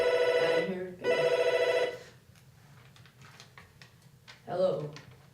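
A telephone rings with two long, loud electronic bursts about a second apart on a Florida sports radio show, then quieter clicks and handling sounds, and a third partial ring near the end.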